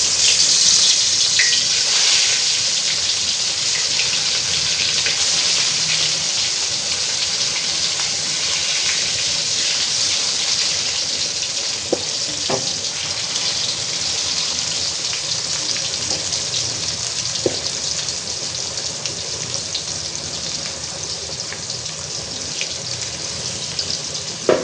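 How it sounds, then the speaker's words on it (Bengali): Teasel gourd fries in hot oil in a wok, giving a steady, bright sizzle with a few small pops that continues evenly throughout. "তেল গরম হয়ে গেছে, আমি যে কাঁকরোল দিয়ে দিতেছি।"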